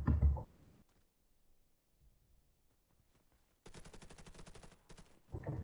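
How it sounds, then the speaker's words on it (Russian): In a video game, gunfire comes in short bursts: a loud shot at the start, a sustained rapid burst of automatic fire later, and another shot at the end, with near silence between. "Опа, вот он меня стрелял"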